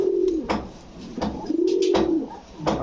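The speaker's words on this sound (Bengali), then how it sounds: "দেখছেন খালি কবুতরটার ডাকটা দেখছেন তো" A large Pakistani pigeon coos close by at a pigeon farm, two rounded rising-and-falling calls with soft wing or movement noises between them.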